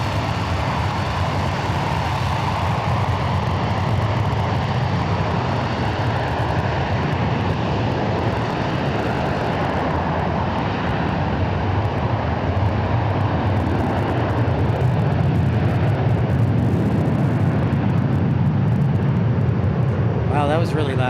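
Passenger jet departing runway 18 Right at DFW International Airport, a loud, steady broadband engine roar that holds throughout and swells further toward the end.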